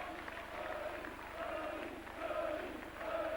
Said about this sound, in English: David Furley being applauded as he comes round